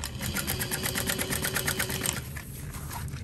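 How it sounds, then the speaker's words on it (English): A sewing machine topstitching a shoulder bag, a steady fast rhythmic whirring and clatter of the needle that runs for about two seconds before the motor winds down, heard up close. "Just gonna go ahead and top stitch it."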